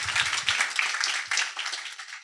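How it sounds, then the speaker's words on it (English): Audience applause at a fellowship demo day, a burst of many hands clapping at close range that stays lively and then fades out at the end, with no talking. "So give Chase a round of applause, please."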